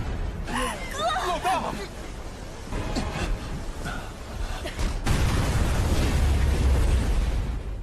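Animated explosion from the anime Battle Through the Heavens: a loud, sustained blast with crackling, rumbling bursts, swelling into a dense roaring wall of noise in the second half.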